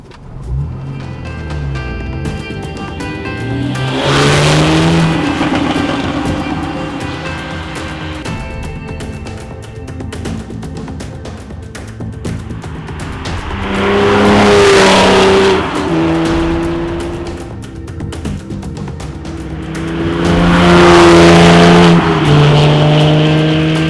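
A 2013 Porsche 911 (991) Carrera 4 with a 3.4-liter engine and manual gearbox revs and accelerates in several long surges, rising in pitch through the gears, loud and close with rumbling between pulls.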